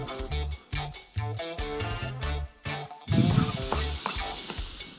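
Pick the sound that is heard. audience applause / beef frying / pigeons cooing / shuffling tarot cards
beef frying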